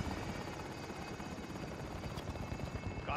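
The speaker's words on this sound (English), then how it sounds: "Helicopters exiting the AO." A helicopter in the video game Call of Duty Warzone (Verdansk, Plunder mode) drones steadily with a loud, continuous rotor thrum that fills the whole stretch without pause.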